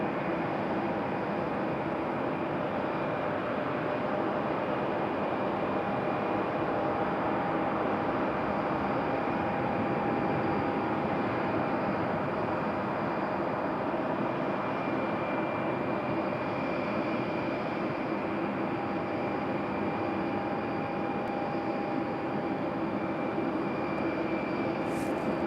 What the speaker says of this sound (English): Got a Delta A319 making its way out to the runway